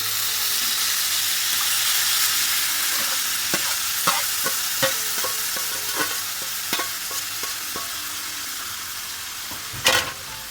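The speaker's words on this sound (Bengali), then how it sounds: "ছোটো ছোটো কয়েকটা আলু দিয়ে মূল্য মাছগুলো রান্না করে নিচ্ছি" Poa fish cooking with small potatoes in a pan, a continuous close sizzle with a run of spatula taps and scrapes and one louder clatter near the end.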